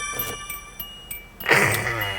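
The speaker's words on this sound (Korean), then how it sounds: "그 예전 아버지들 차에 이제 딱 문이 열려 있으면 띵동 띵동 띵동 띵동 이 소리가 많이 났는데" A 1993 SsangYong Musso's door-open warning chime dings about four times in a steady, evenly spaced rhythm, close and fairly quiet, before a louder broadband rush of noise cuts in.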